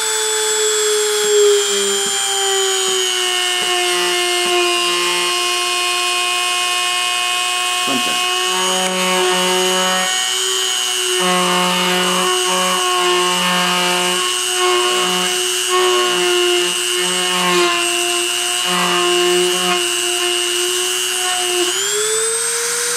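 A machine spindle runs steadily while cutting, giving a loud continuous whine with layered tones. Short grinding bursts recur through the middle, and the pitch dips near the end.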